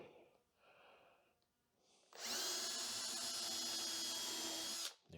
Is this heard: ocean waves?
no